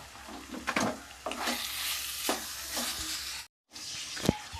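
Chicken keema frying in a pan with ketchup added, stirred with a spoon: steady sizzling broken by several scraping strokes against the pan, with a brief cut to silence before the sizzle resumes.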